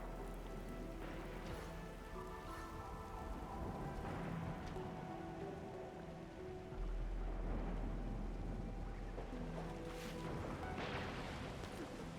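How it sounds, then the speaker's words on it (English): Steady heavy rain patters and hisses in the video game Arknights Endfield, with soft rumbling swells of thunder and faint musical tones underneath. "It's raining harder. I can't hear anything except for the rain."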